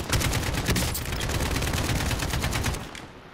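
Rapid gunfire from a firefight in Call of Duty Modern Warfare, dense overlapping bursts of shots rattling steadily for about three seconds before cutting off, loud and close with no voices.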